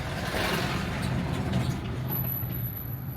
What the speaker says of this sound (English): Here comes a littler truck.